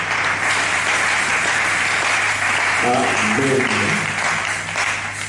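A church congregation applauds the word of the Lord in a dense, sustained wash of clapping, and a voice briefly speaks partway through.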